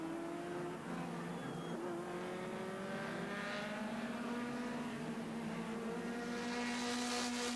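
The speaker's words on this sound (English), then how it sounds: "Cyril Ray's car losing a wheel." Touring cars from the 1988 European Touring Car Championship roar past, their engines droning and rising in pitch as they accelerate, with the sound swelling louder toward the end.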